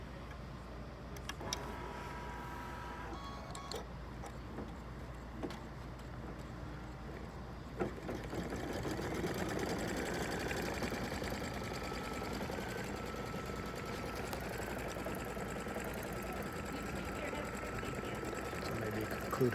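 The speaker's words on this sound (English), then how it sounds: "And now I'm going to push OK and stitch it out." Bernina sewing machine stitching a quilt border, a steady mechanical whir that starts after a few seconds of quieter handling and runs continuously at close range, with faint talk in the background.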